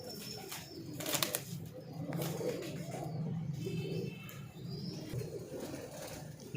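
Several pigeons cooing softly in a loft in Lahore, low throaty coos repeating over a background of rustling and faint flapping, with a brief voice nearby.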